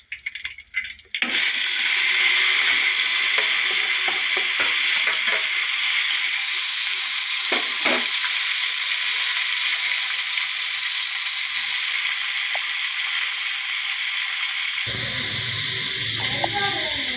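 Curry leaves, chopped onions, coriander and tomato hit hot oil in a pan with a sharp burst, then a loud, steady sizzle and hiss continues close by, with faint crackles, until the sizzle suddenly drops off near the end.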